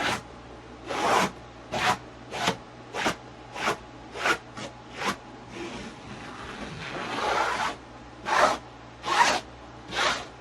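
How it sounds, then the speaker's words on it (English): A putty knife scraping rug backing flat against glue, giving a steady series of about a dozen close, rough swipes at a regular rhythm, with a longer continuous rub near the middle. "I'm just smoothing out all of this basically against the glue so it can stick"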